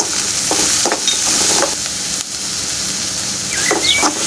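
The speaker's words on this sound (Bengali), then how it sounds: "পেঁয়াজটা কিছুক্ষণ নেড়ে চেড়ে ভেজে নেব হালকা বাদামি করা" Onion stirred and fried in a pan for a Bengali mixed leafy greens dish, giving a loud continuous sizzle with several quick scraping spatula strokes near the start and a brief dip partway through.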